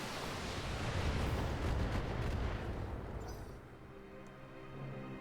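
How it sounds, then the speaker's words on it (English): Salvo of LRM-20 long-range missiles launching in the mech combat game BattleTech, a loud rumbling barrage of overlapping blasts that swells and then trails off into a lower hum. "just have a fire at LRM-20"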